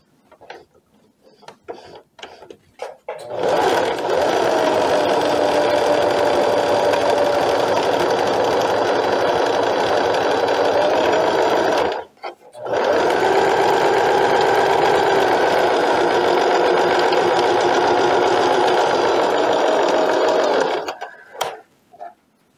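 Sewing machine running steadily as it stitches an A-line skirt seam, loud and close, two long continuous runs separated by a brief pause, with no voices.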